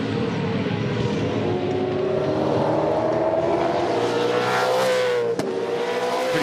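A cluster of 2013 Supercars V8 race cars at Ipswich roaring past together, loud engines climbing in pitch under throttle and then sweeping away, with a sharp transient as they pass.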